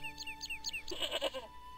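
A goat in the Broken Sword adventure video game bleats in a loud, wavering cry, preceded by a quick series of chirpy game tones, close and clear with no talking.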